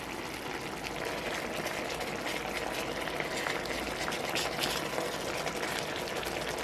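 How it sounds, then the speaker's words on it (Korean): Tomato sauce boils uncovered in a pot, reducing with a steady, dense bubbling hiss that stays even and close throughout, with no voices. "뚜껑 열고 1분간 끓여 소스를 졸여주면 완성이에요"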